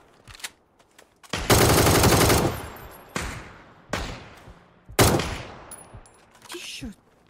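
Video game gunfire in bursts: a long sustained volley followed by several shorter shots spread across the moment, with faint speech nearby.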